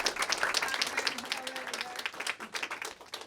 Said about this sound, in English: Can we just have a round of applause, please,